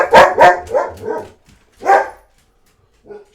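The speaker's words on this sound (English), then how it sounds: "Doggy's going off." A German Shepherd dog barks loudly and close, a quick run of four or five barks followed by one more bark and a faint final yip, with no talking.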